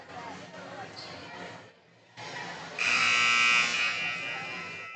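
A loud, sustained electronic buzzer ends halftime at a high school girls' basketball game in a gym, sounding for about a second over crowd murmur and talk.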